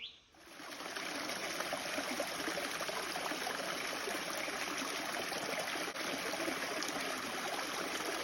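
A trail water source on the Appalachian Trail, a stream running in a continuous, fairly faint rushing trickle, heard close and steady without any voices.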